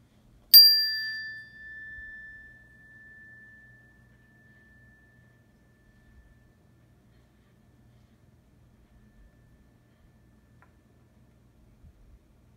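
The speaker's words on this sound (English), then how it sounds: "close your eyes, and listen for the chime." A single bright chime strikes once and rings out alone in a quiet room, its clear tone fading slowly over several seconds until it is barely audible.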